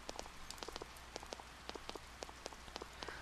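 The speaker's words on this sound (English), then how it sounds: "Too bad it's raining." Steady rain pattering on a surface in the Persona 4 video game, with scattered sharper raindrop taps over a continuous wash, alone with no talk.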